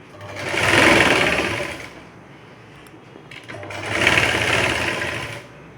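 Sewing machine stitching a katori blouse, two separate bursts of fast, even whirring with a quiet lull between them, close by and free of talk.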